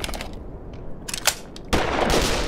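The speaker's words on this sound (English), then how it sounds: "must be my dude firing over the back" An allied character's gunfire in the Black Mesa game: clattering bursts of shots at middling distance, a few quick reports early, then a denser, louder burst of rapid fire toward the end.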